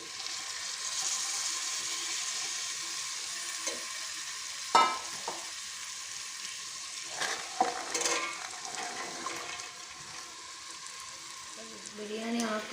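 Onion, green chilli and carrot pieces fry in oil for vegetable biryani, a steady sizzle broken by occasional scrapes and clinks of a stirring spoon against the pot.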